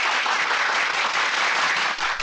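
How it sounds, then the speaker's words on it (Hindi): Steady, loud applause from a crowd at a political speech, a dense wash of clapping that holds throughout with only a slight dip near the end. "बजाओ ताली।"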